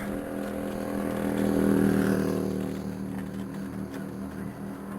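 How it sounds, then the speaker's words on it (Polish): A motorcycle passes by outdoors, its engine drone swelling to a peak around the middle and then fading off into the distance, with no talking. "Jakiś motocykl"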